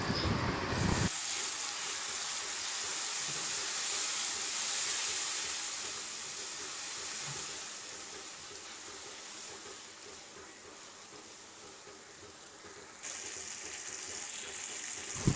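Water poured into masala frying on a low flame, giving a sustained loud broadband sizzle and hiss of steam that fades gradually, with a sharper burst at the very start and end.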